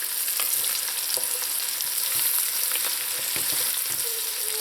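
Bitter melon fries in hot oil in a pot with a loud, constant sizzle, while a utensil turns and stirs the pieces, adding soft scraping taps throughout.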